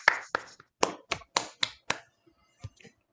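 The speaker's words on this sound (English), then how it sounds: "please give a big round of applause to everyone." Meeting participants clapping sparsely, about eight distinct claps in an irregular rhythm that thins out and fades, close and isolated rather than a full crowd.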